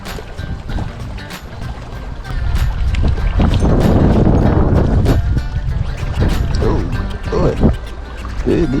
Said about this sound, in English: It didn't like that wind gust.